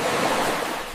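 Sea waves wash onto a sunny beach of golden sand, giving a steady, full roar of surf with no voices.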